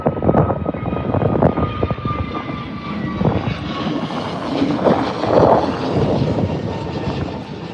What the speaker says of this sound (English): Jet2 off into the sun.